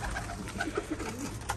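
Pigeons coo in soft, low, repeated calls from a rooftop loft of fancy breeding birds, fairly close, over a steady low background hum with a few higher chirps.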